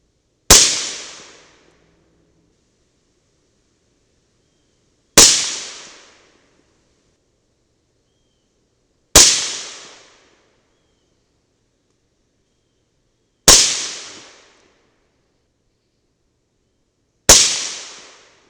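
Five loud, sharp gunshots from a 300 BLK CMMG rifle with an 8-inch barrel, evenly spaced several seconds apart, each a crisp crack decaying quickly into silence, no speech.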